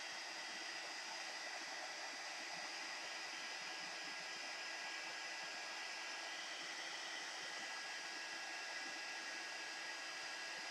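Heat gun blows steadily while heating embossing powder until it puffs, a constant airy whoosh with no pauses, fairly quiet and alone without speech.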